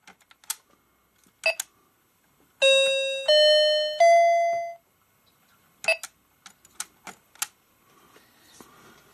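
31-key electronic educational toy piano keyboard playing back a recording: a few scattered clicks, then three sustained electronic beeping notes stepping upward in pitch, followed by more button clicks and taps close by.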